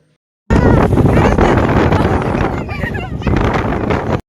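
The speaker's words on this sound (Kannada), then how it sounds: "ಆಮೇಲೆ ಗಾಳಿ ಬರ್ತಾ ಸ್ಟಾರ್ಟ್ ಆಯಿತು" Strong wind buffets the microphone in a loud, continuous roar near a pond at Melukote during the rainy season, after a brief silent start, with a faint voice mixed into the rushing noise.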